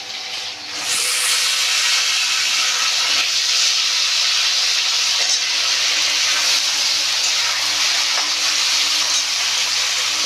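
Diced pumpkin and potato sizzle steadily in a hot pan with green chilli and garlic, a loud continuous frying hiss that starts after a brief quiet second and holds unbroken, with no talking.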